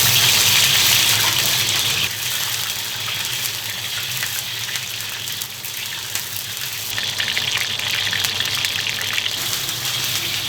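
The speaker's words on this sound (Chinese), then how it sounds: "锅烧热，下油， 撒点儿， 下点姜葱，炸点葱姜油哈" Ginger and scallions fry in hot oil in a wok, a loud, steady, broadband hiss and rushing sizzle that runs continuously, close up, with no speech.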